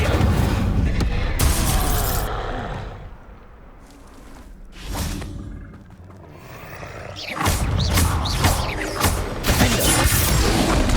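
Incendio fire spells cast in Hogwarts Legacy combat, with repeated loud bursts, crackling impacts and clattering effects alongside a dense, busy game soundtrack, quieter in the middle stretch before the bursts return.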